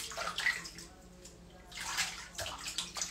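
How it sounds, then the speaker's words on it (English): Cool, clean water runs into a basin for rinsing a wig, a close rushing splash in bursts with brief pauses between. "Just fill the basin with cool water, cool, clean water"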